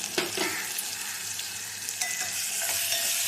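Continuous sizzle of onion and tomato sautéing in a hot pan, with light stirring scrapes now and then, close and steady, no voices.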